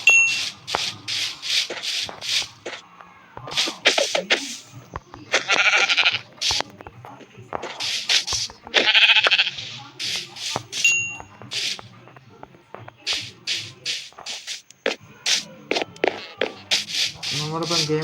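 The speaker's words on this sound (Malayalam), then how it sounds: "അവിടെ ഒരു ആട് നിൽക്കാറുണ്ട്." Goat bleats from the Minecraft video game come in short, repeated bursts among chimes and other game effects, spread across the clip.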